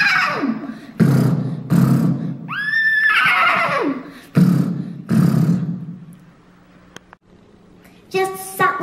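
Several loud, close horse neighs and whinnies ring out in sequence within a song about horses and ponies, each a rising, quavering call, with quieter gaps between them.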